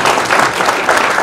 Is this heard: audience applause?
yes